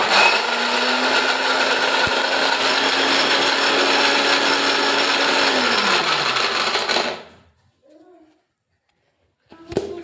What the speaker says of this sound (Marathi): मिक्सरचं झाकण लावून घ्यायचं आहे आणि आपल्याला मिक्सरमध्ये पिसून घ्यायचं आहे